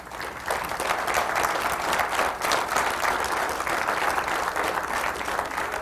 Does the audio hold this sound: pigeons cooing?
no